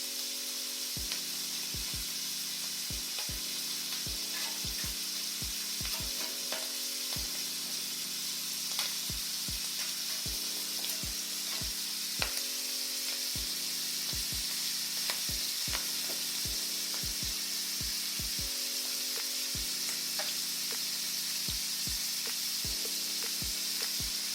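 Shrimp for creamy pasta sizzle steadily in a hot pan, up close, while a utensil gives sharp taps and scrapes now and then and faint background music plays underneath.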